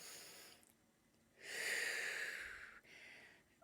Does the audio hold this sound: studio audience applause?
no